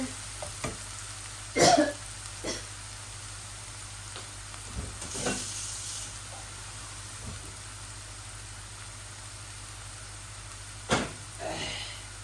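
Onion fries in a pan for a fish gravy, a faint low sizzle under room hum with a few sharp utensil clanks and a cough-like burst.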